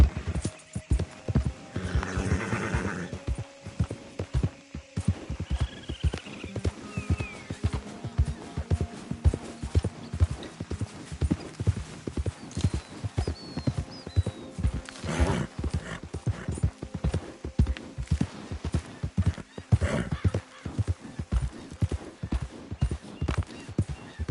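A horse in the Red Dead Redemption 2 video game gallops with steady, rhythmic clip-clop hoofbeats throughout, with a brief whinny near the start and a few other game sounds.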